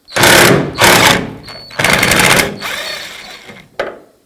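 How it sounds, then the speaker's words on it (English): A ratcheting socket wrench turns the nut off a tailgate striker bolt on a 1999–2007 GMC Sierra pickup, with loud, close, buzzing bursts of clicking broken by short pauses and ending in a sharp knock. "with a T40 Torx, I'm going to hold the striker bolt and remove the nut"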